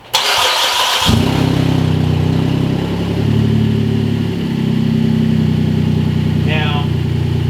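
A 2016 Buick Enclave engine cranks and catches about a second in, then settles into a loud, close, steady idle that holds to the end, with a brief chirp near the finish.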